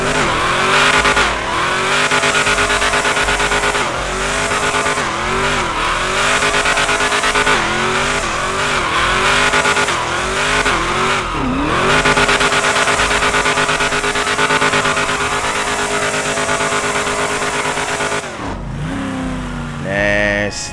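A custom 1973 car's engine revs hard and repeatedly, rising and falling through gear shifts with brief tire chirps, loud and close for most of the stretch before easing off near the end.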